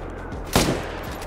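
A single rifle shot cracks out loud and close at a fallow deer in a hunting video game, a sharp broadband burst followed by a brief tail over steady ambient game sound.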